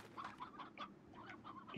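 Hens in the video game Slime Rancher clucking faintly, a run of short rhythmic clucks in quick succession with no talk.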